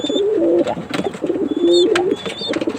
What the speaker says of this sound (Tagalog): naglalakihan na yung mga anak ni Dalit at Batman